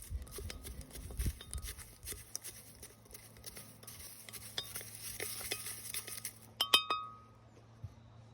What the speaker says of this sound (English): This is a glass container on the blender.